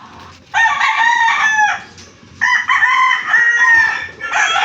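Loud rooster crowing, two long crows back to back with a third starting, close by and over quiet background.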